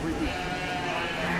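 Sheep bleating in a livestock barn at the Indiana State Fair, a steady, fairly loud wash of animal calls over dense crowd and barn noise, with voices mixed into the din.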